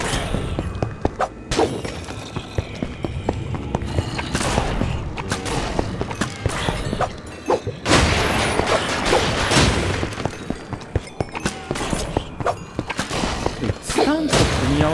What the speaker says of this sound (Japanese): 毒の煙がもう爆発なんだよな。